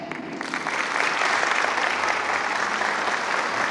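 Applause from an audience at a retirees' association gathering after a speech, swelling in within the first second into a steady, even wash of many hands clapping.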